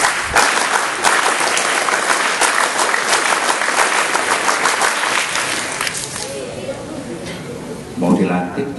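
A scout group at a junior high school installation ceremony claps together in a fast, patterned Pramuka rhythm, loud and continuous, before the clapping fades and voices are heard at the end.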